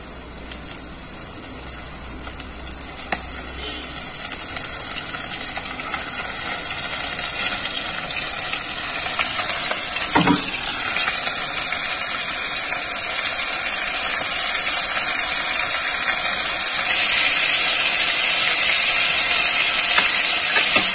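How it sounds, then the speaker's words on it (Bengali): Bombay duck (lote) fish frying in hot oil, a continuous loud hissing sizzle that swells and grows brighter as the pieces go in, with a brief clatter near the middle and no talking. "এবার এই মাছগুলো আমি একটা একটা করে ছেড়ে দেব।"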